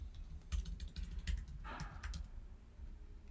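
Keystrokes on a computer keyboard as a terminal command is entered, a quick run of faint, close clicks in uneven bursts over a low hum, with no voices.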